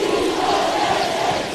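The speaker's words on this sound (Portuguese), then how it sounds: "E a torcida vai à loucura no estádio municipal em Dili com essa jogada perigosa" A large stadium crowd roars and cheers in a sustained loud wash at a Timor-Leste versus Portugal football match in Dili's municipal stadium, with no clear talk.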